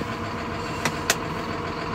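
A 2009 John Deere 7530 Premium tractor with an AutoQuad gearbox idles steadily at a low, fairly quiet level, with two brief sharp clicks partway through.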